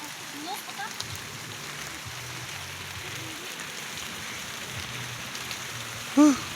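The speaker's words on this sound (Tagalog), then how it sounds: "Kusog ang ulan." Steady rain hisses down through a forest as a soft, even wash, with a person speaking faintly over it and a short louder voice near the end.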